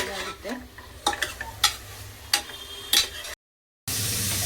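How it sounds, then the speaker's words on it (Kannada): Masala for a kebab is fried and stirred in a pan: bursts of spatula scraping over a steady sizzle, close and fairly loud, then a brief drop to silence before a louder sizzle resumes. "ಇವಾಗ ಇದು ಫ್ರೈ ಆಗ್ತದೆ."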